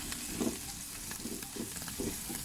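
Eggs being stirred and scrambled in a hot pan over medium heat, a soft steady sizzle broken by several rhythmic scraping strokes of the utensil, fairly close and quiet, with no voices.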